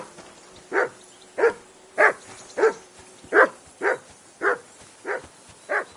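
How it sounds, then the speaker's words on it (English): A dog barks repeatedly in Kingdom Come Deliverance 2, about ten evenly spaced, moderately loud woofs with no other sound. "I assume you can hear that damn dog of yours barking."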